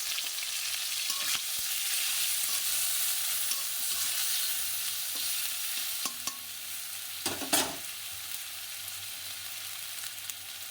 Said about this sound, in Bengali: তেলটা গরম হয়ে গেছে, উপর থেকে পাঁচফোড়ন দিয়ে দিলাম।